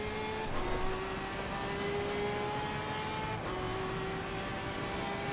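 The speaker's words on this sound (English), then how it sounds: "This car sounds like a Hoover on there." A race car engine drones steadily in Assetto Corsa Competizione, a sustained whining, vacuum-like tone that shifts pitch slightly with throttle and gears, continuous and moderately loud with no talk.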